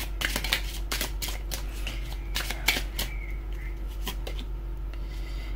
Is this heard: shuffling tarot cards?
yes